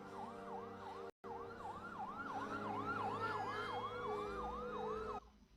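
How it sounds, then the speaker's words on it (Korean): A police car siren wails, sweeping up and down in a steady rhythmic cycle, loud and close, with a brief cut near the start and traffic rumble beneath. "그때 들리는 경찰차 소리"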